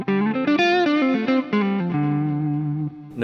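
An electric guitar played through a PRS pedal with the compression switched off: a short phrase of sustained notes that ends on a long held low note, then a fresh pluck right at the end.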